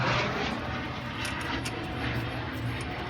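Airplane noise from an airport about two miles from an apartment complex, a steady broad roar that fills the background throughout with no talk over it.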